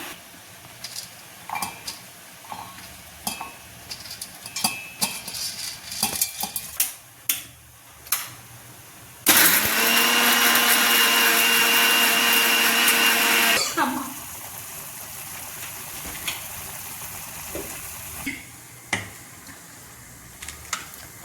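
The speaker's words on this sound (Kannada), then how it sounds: "ಒಂದು ಮಿಕ್ಸಿ ಜಾರ್ಗೆ ಹಾಕ್ಕೊಂಡು ಪೇಸ್ಟ್ ಮಾಡ್ಕೊಳ್ಳೋಣ" A kitchen mixer grinder blends mint, coriander and spinach into a paste, one loud continuous whirring burst lasting about four seconds, set between quieter clinks and kitchen handling noises.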